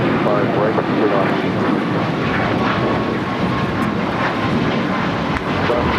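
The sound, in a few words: airplane jet engines at LAX airport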